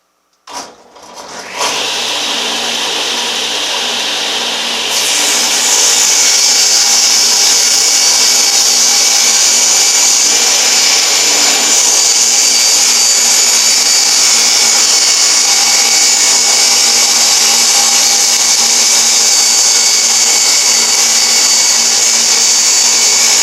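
An old Sears table saw spins up and rips a 2x4 down to width, starting with a short click, then settling into a loud, steady whine that drones on alone for over twenty seconds.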